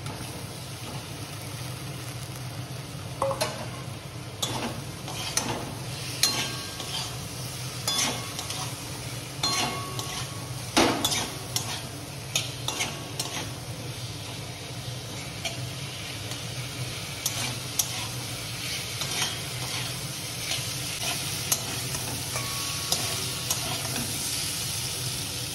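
Fish curry masala seasoned with cumin powder sautés in a pan with a low, continuous sizzle. Clinking spatula strokes and scrapes recur irregularly throughout.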